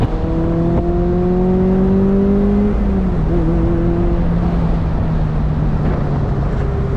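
A Toyota MR2 Spyder's engine drones steadily while the car drives downhill, its pitch sliding slightly as revs shift, loud and close with road noise beneath.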